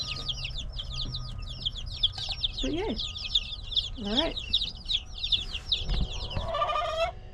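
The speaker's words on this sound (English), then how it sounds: "So here is our chicken coop." Chickens cluck and chirp steadily in a brooder and coop, dense overlapping calls up close, with a few louder squawks; a person briefly speaks over them.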